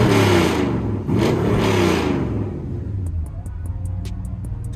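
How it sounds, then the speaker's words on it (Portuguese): A Dodge Charger R/T classic car's engine runs loud and close, rumbling steadily and then revving, with the idle settling lower toward the end and some faint ticking noises over it. "Funcionamento desse carro."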